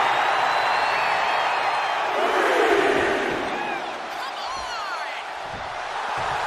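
Arena crowd in a wrestling video game, a loud, sustained roar of cheering and shouting voices with whistles and scattered impacts, swelling in the middle and easing slightly before rising again.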